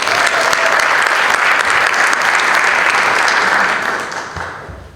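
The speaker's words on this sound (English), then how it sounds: "let's give a nice round of applause for our 2022 salutatorian, Haley Ivanko." Loud, steady applause from a school board meeting audience greeting the 2022 salutatorian, sustained clapping that fills the room and begins to fade near the end.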